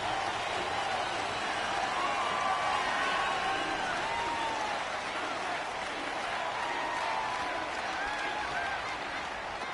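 A stadium crowd at a 49ers vs Cardinals football game roars in a steady, loud wash of cheering and clapping, with a broadcast voice talking over it throughout.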